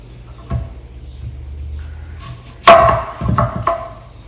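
Yellow onion being chopped for pico de gallo on a cutting board, a few knife thuds and one sharp louder chop, close by, with faint background hum.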